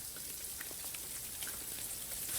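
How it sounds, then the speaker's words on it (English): Rain falling steadily outdoors, a soft continuous patter of drops with faint scattered ticks, fairly quiet and with no voices. "Oh, raining."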